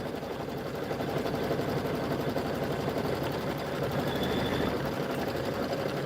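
An embroidery machine stitches a Kimberbell bunny border design for a bench pillow, a close, steady rapid whirring and clatter that runs without a break and with no talking.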